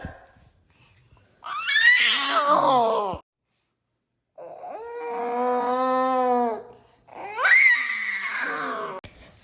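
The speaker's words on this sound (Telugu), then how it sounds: "ఎలా అరుస్తుంది కదా, అట్లనే అరుస్తుంది రోజు" A baby girl screams and wails in three long loud bursts, the middle one a sustained high-pitched cry, separated by brief silence, close to the listener.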